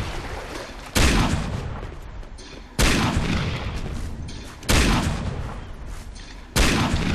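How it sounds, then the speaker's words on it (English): Machine gun fire in Far Cry Instincts Predator comes as four loud, evenly spaced booming bursts about two seconds apart, each fading out slowly, with no talking. "No, mine's just a machine gun."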